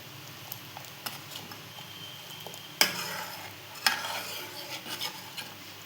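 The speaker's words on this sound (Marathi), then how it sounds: "तर साखर टाकली आणि थोडं उकळूया परत" Milk with sugar heating in a pot for mango ice cream and being stirred with a spoon: soft bubbling under a steady stir, broken by two sharp utensil knocks.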